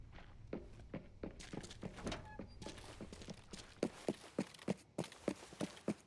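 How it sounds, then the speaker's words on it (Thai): Footsteps in the tactical shooter Arena Breakout, a run of thudding steps that starts soft and grows more distinct and regular, with sharper, closer impacts toward the end. "เหมือนจะได้ยินเสียงย่องนะครับ"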